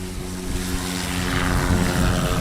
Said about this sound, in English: And Clayton Wheaton on the takeoff roll right now